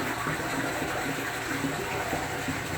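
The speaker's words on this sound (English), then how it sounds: "Filling the water back up right now." Water pours steadily to refill a 220 gallon aquarium, a continuous close rushing and splashing gush at an even level, with no talk over it.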